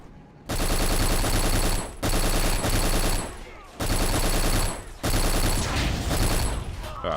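Heavy automatic gunfire in the shooter game Black, four loud sustained bursts of roughly one to one and a half seconds each separated by brief pauses, close and dominant.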